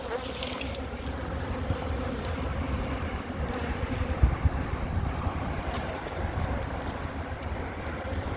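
Honeybees shaken off a hive lid swarm in a steady, dense buzz close by, with wind rumbling across the microphone and no voices.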